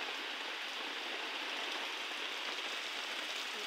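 Heavy monsoon rain pours down steadily, a dense, even hiss of water with no pauses and no voices.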